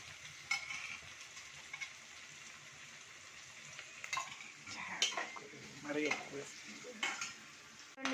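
Coriander and cumin powder stirred into a pan of pasta, soft scraping and clinking of a spoon over a faint sizzle, quiet and close, growing busier toward the end.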